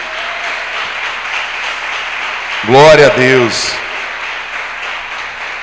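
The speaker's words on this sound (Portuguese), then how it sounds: "pode aplaudir o Senhor Jesus por isso" A church congregation claps steadily through the whole stretch, while a voice briefly calls out over the applause partway through.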